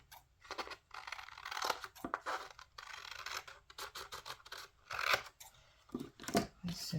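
Brand-new scissors cutting paper for a papercraft design project, a run of close scratchy snips and rustling paper in irregular bursts, with some handling noise between cuts.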